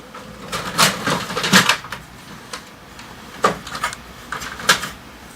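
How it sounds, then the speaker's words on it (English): Input tray of an HP Envy Photo 7275 printer being opened, heard as a series of close plastic clicks and knocks in irregular clusters, with quiet pauses between them. "Next, open the input tray to load paper."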